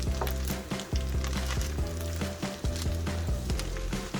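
Chorizo fried rice sizzles in a hot pan while being stirred, a continuous fry hiss with regular thumping, scraping strokes of the utensil, close up and without talk.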